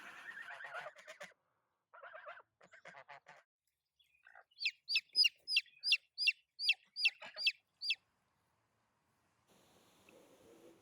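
Broody Orpington mother hens with their chicks, soft clucking and bird calls at first, then a loud run of about ten rhythmic, evenly spaced calls close by, ending in a faint low murmur.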